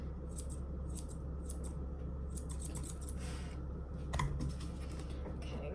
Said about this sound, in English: Take my straights, trim, trim, trim, trim, trim, trim.